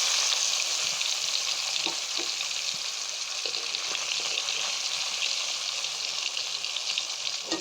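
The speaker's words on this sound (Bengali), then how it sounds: "এখন আমার তেলটি গরম হয়ে এসেছে এবং এটাতে আমি এক এক করে ফিশগুলো ছেড়ে দিই।" Spice-coated Mirka fish pieces fry in hot oil, giving a steady, dense sizzle that runs unbroken the whole time, with a few faint clicks and stirring touches beneath it and no talking.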